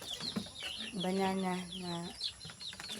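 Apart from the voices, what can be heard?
chickens clucking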